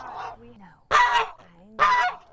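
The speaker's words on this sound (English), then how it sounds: "her support animal is a goose" A pet goose kept as an emotional support animal honks in two loud, harsh bursts about a second apart, each preceded by softer, lower calls, close to the listener.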